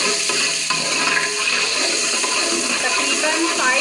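Garlic and ginger fry in a pan for prawn biryani, giving a steady, loud, close sizzle that holds evenly from start to finish.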